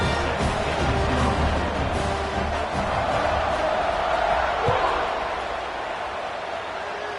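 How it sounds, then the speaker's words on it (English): A football stadium crowd murmurs in a dense, steady roar after a score, loud and continuous before easing slightly toward the end. "this crowd is buzzing after that last score"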